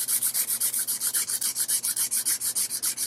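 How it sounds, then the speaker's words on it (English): A sanding stick works over dried filler on a 3D-printed gauntlet, with quick, even back-and-forth strokes that rasp close and clear in a steady rhythm, no voices. "Wow, that sands great."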